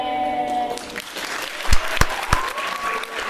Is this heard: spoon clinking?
no